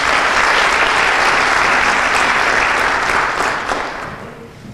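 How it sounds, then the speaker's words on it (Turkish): An audience applauds steadily at a traditional poets' festival stage event, a dense continuous clapping that holds strong and then gradually thins and fades toward the end, with no talk over it. "Alkışlarınızla şairimizi sahneye davet ediyoruz."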